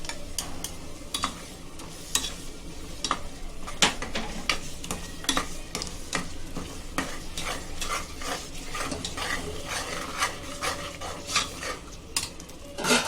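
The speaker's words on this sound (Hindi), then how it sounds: "मसाले को भूनेंगे और दही डालेंगे।" Masala for zafrani biryani, with yogurt added, sizzles and fries in a pot while a spoon scrapes and stirs it with steady, irregular clinks close by.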